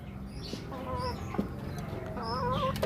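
Hens cluck and murmur softly nearby, several short calls over a low, busy background of scratching and pecking.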